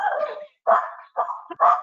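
A dog barks during a video call, giving four short, close yapping barks separated by brief pauses.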